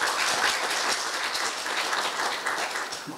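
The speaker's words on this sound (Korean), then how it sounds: "박시영 교수님께 큰 박수를 다시 한번 보내주시기 바랍니다" An audience at a university health forum lecture on osteoporosis gives the professor a steady round of applause, a dense even patter of many hands with no voices.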